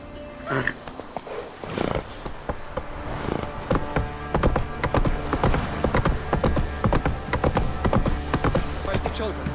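Roach, a horse in The Witcher 3, gallops in a quick, steady clip-clop of hooves that runs almost the whole time at moderate loudness, with faint ambient sound underneath.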